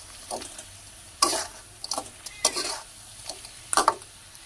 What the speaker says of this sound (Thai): กุ้งเทลงไปเลยจ้ะ ผัดให้เข้ากัน